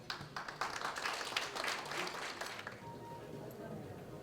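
Applause welcomes the president at a university lecture gathering, soft, fairly distant clapping from a seated audience that fades out after a few seconds into quiet room tone.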